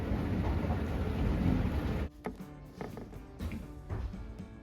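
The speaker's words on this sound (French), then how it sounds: "Il pleut à verse" Heavy rain pouring down, a loud dense hiss for about two seconds that suddenly drops to quieter, muffled background noise with scattered knocks, as if moving indoors.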